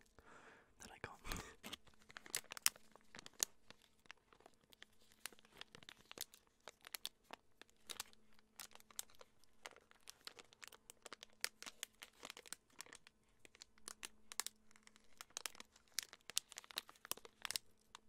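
The wrapper of a Christmas snowflake cream-filled treat crinkles and tears right up close to the microphone in an ASMR setting, a busy run of crackles under soft whispering.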